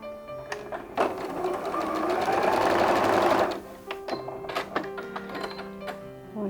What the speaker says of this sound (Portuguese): E vou fazer uma costura nesse risco.